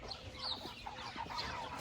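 Soft clucking from a flock of eight-week-old Cornish Cross meat chickens under a cover outdoors after rain, faint, scattered chirps and clucks over low background noise.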